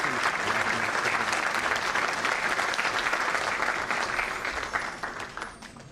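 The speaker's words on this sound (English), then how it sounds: "Please welcome him with a warm round of applause." A large audience at a law and arbitration closing session gives a sustained round of applause welcoming a government minister, dense steady clapping that fades toward the end.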